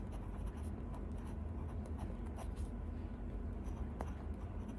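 Steel-nib fountain pen scratching across paper with Monteverde reddish-brown ink, a soft continuous close-up writing scrape over steady low room noise.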